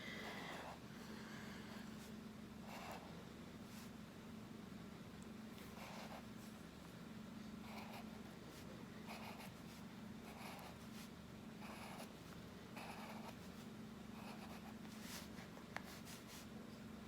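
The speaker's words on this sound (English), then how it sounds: "So if you, Katie Beth, if you want to just draw some lines straight out." A pen draws short strokes on paper while a giraffe picture is being made, giving faint, scratchy repeated strokes over a steady low room hum.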